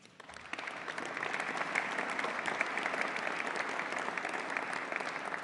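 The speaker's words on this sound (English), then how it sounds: "You can applaud him as well if you want." A crowd at a congressional bill signing ceremony breaks into applause that swells quickly and holds as a steady, full roar of clapping for several seconds.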